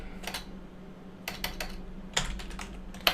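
Bursts of keystrokes on a computer keyboard while someone writes code, clustered in short runs with pauses between, close and fairly quiet over a low steady hum.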